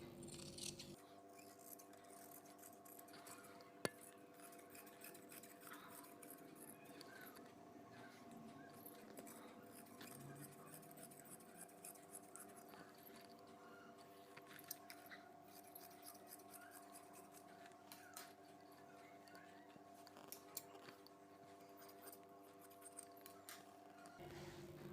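Scissors cut through fabric for a chudidar top, with faint, close snipping and rubbing that continues steadily at low volume over a quiet, humming background.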